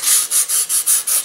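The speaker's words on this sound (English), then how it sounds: "sanding off some material on this." Sandpaper rubs back and forth over the balsa fuselage of a small rocket-boosted glider, making six rapid, even scratchy strokes close up.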